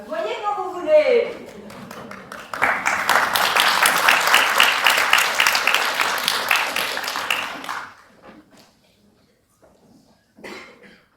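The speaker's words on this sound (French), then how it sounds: "applaudissez." A theatre audience at a live stage play applauds, with dense, loud clapping swelling for several seconds and then fading out. A voice comes first, and scattered coughs and a brief voice follow once the clapping stops.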